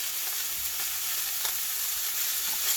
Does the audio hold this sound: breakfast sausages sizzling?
yes